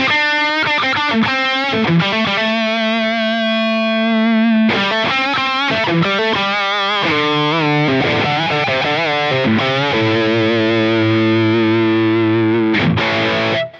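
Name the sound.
electric guitar through Line 6 Helix Placater Dirty (Friedman BE100) amp model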